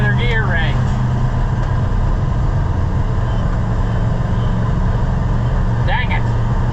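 A Ford L-Series truck engine running steadily while the driver struggles to shift gears, a loud constant drone with a pronounced low hum and faint brief squeaks near the start and end.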